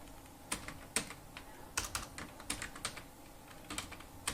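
Keys tapped on a computer keyboard while entering a captcha on a ticket booking site, a close, quick run of irregular clicks with short pauses and no voices.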